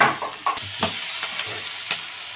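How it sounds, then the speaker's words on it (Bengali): Food browning in white cooking oil for a breakfast dish sizzles with a steady hiss, while several short scrapes of a spatula stir it at irregular intervals; no voices. "তো আমরা একটু এটা ব্রাউন করে ভেজে নেব।"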